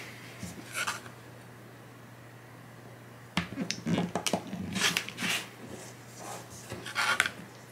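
A rotary cutter slicing fabric strips into small quilt squares on a cutting mat, quiet at first, then a series of sharp close cuts and handling clicks in irregular bursts.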